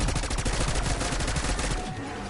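Rapid, sustained automatic gunfire pours into a charging zombie in Black Ops 6 Zombies, a dense unbroken burst of shots close and loud, easing slightly near the end.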